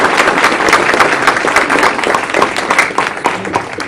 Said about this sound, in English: one last round of applause for the committee